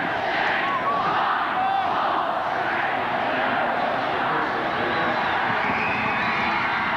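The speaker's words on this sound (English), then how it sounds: "The crowd will count down the final few seconds." Schoolboy rugby final crowd, St Gregory's College against St John's Woodlawn, roars and shouts continuously as the last seconds tick away, a loud sustained mass of cheering voices filling the stadium.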